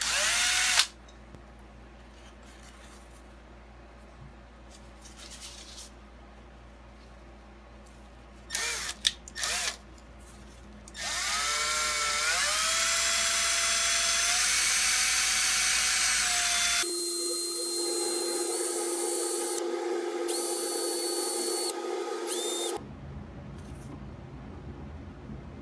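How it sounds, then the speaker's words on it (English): A power drill spins a metal part being polished with polish and a paper towel, whirring in long steady runs with pitch shifts and a few short bursts and pauses between. "I'm just going to chuck this into my drill."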